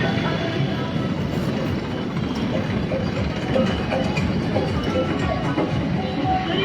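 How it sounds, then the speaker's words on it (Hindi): A convoy of tractors rolls along a road in a large farmers' tractor march rally in Bhadra, their engines making a loud, steady, unbroken rumble with no pauses. "बड़ी संख्या में ट्रैक्टरों का काफिला एक प्रकार से दौड़ता हुआ सड़कों पर"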